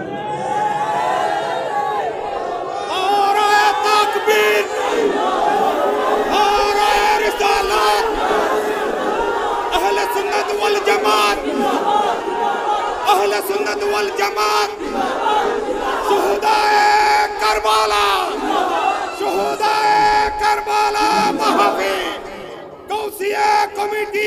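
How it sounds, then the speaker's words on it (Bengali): A large crowd at an Islamic religious gathering chanting slogans in unison, loud repeated rhythmic shouts led by a voice over an amplified system, sustained for the whole stretch with a brief dip near the end. "আমার সাথে কে কে আছেন হাত তুলে স্লোগান লন।"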